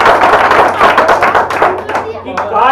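Hindi audience at a comic poetry recital (hasya kavi sammelan) clapping in a dense, steady burst of many hands, close and loud, with voices mixed in underneath.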